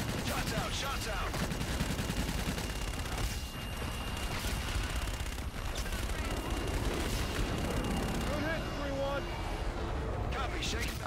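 A fire support strike in Call of Duty: Infinite Warfare, heard as dense, sustained gunfire and heavy booming that rumbles steadily for the whole stretch, with voices talking over it.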